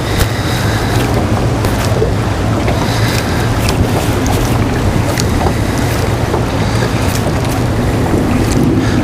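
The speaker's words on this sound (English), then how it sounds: "man, it's windy out here" Strong, constant wind buffeting and roaring across the microphone outdoors while fly fishing from a boat, loud and unbroken throughout, with faint water and boat rumble beneath.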